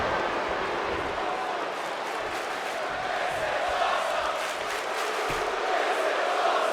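A virtual Richmond arena crowd in the WWE 2K25 wrestling game roars and cheers in a dense, sustained wash, with faint voices and whoops mixed in.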